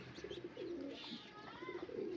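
Soft, repeated cooing from high-flyer pigeons kept at a breeder's home in Punjab, faint and close against a low background hum.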